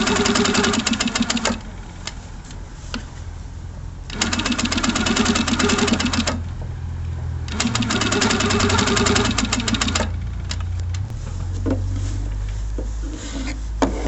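A Handi Quilter Sweet 16 quilting machine stitching with Trustitch, rapid needle chatter in several loud sustained runs separated by quieter motor hum, close up.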